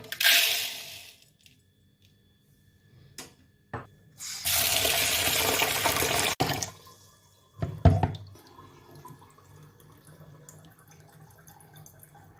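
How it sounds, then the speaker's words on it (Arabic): Bulgur wheat is rinsed under a running kitchen tap, giving two bursts of gushing water into a sink separated by quiet, followed by brief splashing and faint dripping. "بالبداية بدي أغسل البرغل، طبعا أغسلها كتير منيح."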